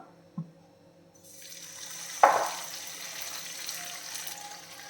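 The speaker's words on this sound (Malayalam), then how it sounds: "നമുക്ക് ചൂടായിട്ടുണ്ട് നമ്മളിനി മാവ് ഒഴിച്ചു കൊടുക്കാം" Bun dosa batter poured onto a heated pan, a soft liquid pour with a brief sharp onset around the middle followed by a steady low sizzle, close and moderately quiet with no talking.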